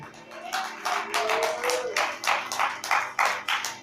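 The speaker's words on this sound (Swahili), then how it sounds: "Pigia Bwana makofi." A church congregation claps in praise, a series of sharp rhythmic hand claps at a steady pace, with a sung or sustained voice tone running underneath early on.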